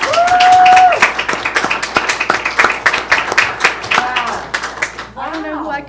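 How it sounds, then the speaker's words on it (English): An audience at a school district board meeting bursts into a few seconds of brisk clapping, close and lively, while voices carry over and through the applause. "Can we clap now?"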